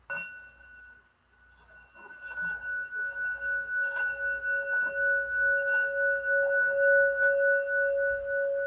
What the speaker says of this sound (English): lately, with the singing bowls,